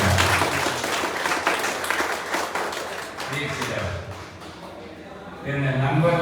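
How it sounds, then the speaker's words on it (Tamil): Audience clapping at a talk, a crowd applauding strongly at first and then thinning out, with a voice speaking over the fading claps near the end. "சொற்களின் பேச்சு பிடித்திருந்தால் கைத்தட்டுங்கள்"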